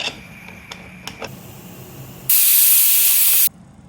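A pressure cooker holding dal on a medium flame gives a loud, sharp whistle of escaping steam that holds steady for about a second and then cuts off, after a few faint clicks and rattles.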